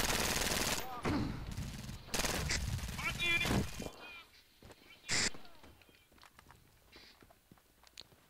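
Gunfire in the video game Brink, loud bursts of rapid shots in the first few seconds, then a quieter stretch with a single sharp burst and scattered fainter shots, with a voice talking over parts of it.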